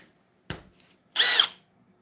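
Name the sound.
power drill running in drill mode, speed 2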